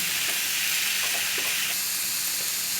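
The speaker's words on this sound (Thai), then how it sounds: "หอยนี้เราก็สุกอยู่แล้วนะฮะผัดให้เข้ากันนะครับ" Mussels stir-fried with fresh chili in a hot pan, a steady loud sizzle and hiss with soft scraping stirs underneath, continuous and close with no talk.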